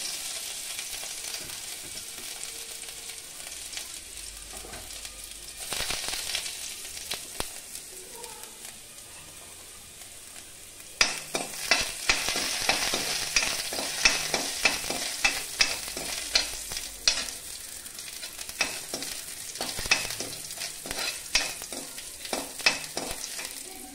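Garlic, cumin and spices fry and sizzle in hot oil in a wok, with steady crackling that intensifies midway into dense popping bursts and scraping stirs, close and fairly loud throughout.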